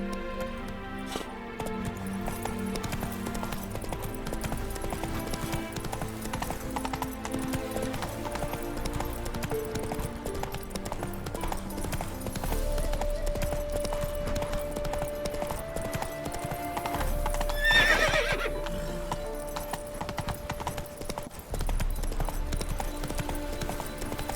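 Rhythmic hoofbeats of a galloping horse clip-clop steadily under an orchestral fantasy score in The Witcher 3 game, with a brief whinny or rider's call partway through.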